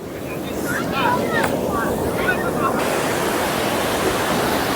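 Ocean waves at Niladri Beach, Puri, crash in a continuous, loud rushing roar, with a voice speaking briefly over it near the start.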